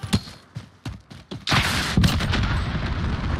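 Rapid SCAR rifle bursts in a first-person shooter video game, with a few sharp separate shots before a dense sustained stream of gunfire and booming impacts.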